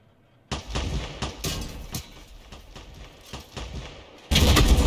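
Tank guns firing and shells striking a tank in a World War II tank battle game: a run of heavy booming thuds and blasts at irregular intervals, ending in a louder sustained explosion.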